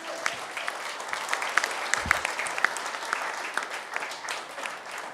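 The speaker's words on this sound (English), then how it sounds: "Everyone give Keisha a round of applause." Audience applause at a mayoral press event announcing a housing and employment campaign, a steady spread of clapping from a moderate crowd at mid distance, fairly even throughout with scattered individual claps standing out.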